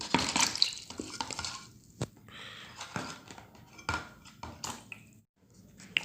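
A rusty gas stove burner nozzle is scrubbed and rinsed in white vinegar, giving scattered clinks, scraping and wet splashes close up, with brief sharp knocks and no talk.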